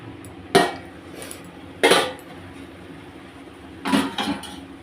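A cooking pot lid on a pot of eggplant and amudi fish curry gives three sharp metallic clanks, the last a quick double rattle, against a quiet kitchen background with no talking.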